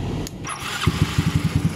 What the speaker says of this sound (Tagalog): Pakinggan natin kung anong sinasabi ng kanyang makina.